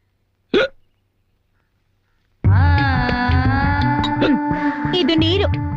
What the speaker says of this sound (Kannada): ಇಲ್ಲ, ಬಿಕ್ಕಳಿಕೆ.